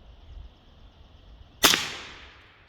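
A single sharp crack from a Wolf A1 gas piston airsoft rifle hitting a cola bottle outdoors, loud and close, with a brief fizzing decay after a quiet stretch of faint background hum.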